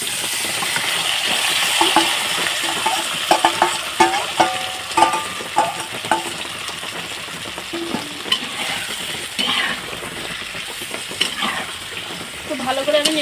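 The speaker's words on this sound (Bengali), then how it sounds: "মাছটা 15 মিনিট হয়ে গেছে ম্যারিনেট করা। তো এবার আমি কড়াইতে দিয়ে দিচ্ছি।" Marinated rohu fish fries in hot oil in a kadai, giving a constant sizzle broken by repeated scraping and clinking stirs of a spatula, close and fairly loud.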